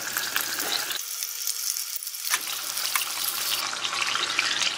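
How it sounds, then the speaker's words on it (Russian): Homemade meat cutlets fry in a pan with a crackling sizzle. It drops to a quieter, duller hiss for about a second, then resumes at full strength. "Когда закончили обжаривать последние котлетки, перевернули их"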